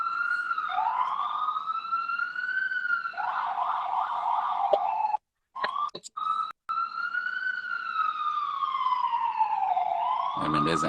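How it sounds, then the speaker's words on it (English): An ambulance siren passes along a noisy Harlem street, its wailing tone rising and falling over and over, loud and near, with a short break before it swells again. "there's an ambulance going by."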